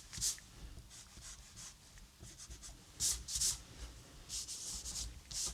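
A pencil shades dark tone areas on paper while drawing a Ford Raptor pickup truck: quiet, close scratchy strokes in irregular bursts with short pauses between them.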